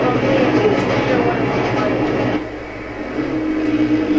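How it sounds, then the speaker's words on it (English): A train rolls past in the MX vs ATV motocross video game, a loud rumbling rattle that drops off briefly before swelling again. "Oh, that's a train."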